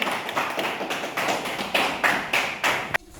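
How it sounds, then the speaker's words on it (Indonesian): Students in an Indonesian classroom clap together for a group that presented on liquids, striking about nine unison beats in a rhythmic pattern before stopping abruptly. "Beri tepuk tangan untuk kelompok benda cair"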